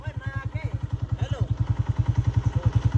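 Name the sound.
motorcycle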